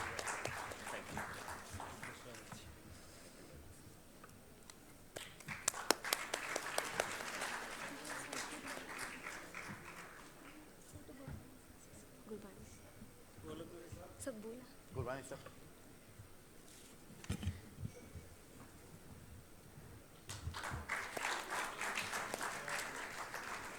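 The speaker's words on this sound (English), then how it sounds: "Friends, please have a big round of applause for our chairperson" An audience applauds for the chairperson at a conference session, bursts of clapping rising in the middle and again near the end between stretches of quieter room sound and a speaker's voice.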